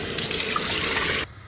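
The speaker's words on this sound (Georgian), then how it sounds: "მოვათავსოთ ოსპი ხვაფში და რამდენიმეჯერ წყალი გამოუცვალოთ" Kitchen tap water streaming into a bowl of lentils being rinsed, a close, steady splashing run that cuts off sharply just before the end.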